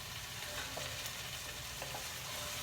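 Chopped onions and tomatoes sauté in a pan, giving a steady, fairly faint sizzle with no voices.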